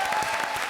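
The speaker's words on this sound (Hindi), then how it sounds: "मेरे लिए भी ताली बजाया यार" Studio audience applause on a Hindi TV comedy show, a steady dense clapping that fills the whole short moment with no voices over it.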